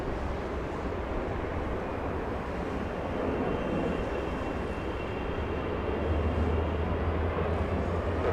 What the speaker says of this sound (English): Alright, Air France lined up. I'm pretty sure it cleared for takeoff.